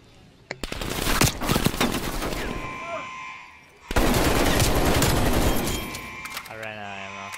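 Rapid automatic gunfire from a one-on-one video game match on the Garrison map, dense loud bursts filling most of the stretch with a brief lull midway, then tapering off into a short electronic tone at the end.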